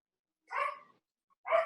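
A dog barks twice, a short sharp bark followed about a second later by another, sounding fairly close in a quiet room with no talking.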